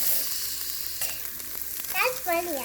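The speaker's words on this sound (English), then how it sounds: "we're going to go ahead and add our Italian sausage" Italian sausage sizzles and crackles in an Instant Pot Nova Plus while being stirred, a steady hiss with a few clacks of a utensil, and a high, squeaky voice-like sound rises near the end.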